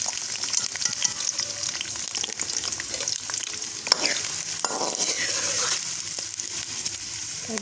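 Chopped onions fry in hot oil while browning, a loud, close, continuous sizzle with scraping stirs and a clink of the utensil against the pan partway through.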